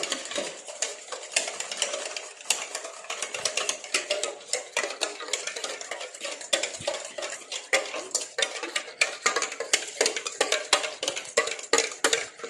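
Bhatura dough is mixed with milk in a bowl, making rapid, continuous clicks and wet slaps as a utensil beats and scrapes against the sides. The sound is close, busy and uneven throughout, with no voices.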